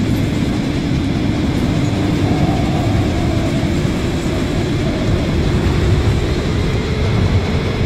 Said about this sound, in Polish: kiedy ten pociąg jedzie coraz szybciej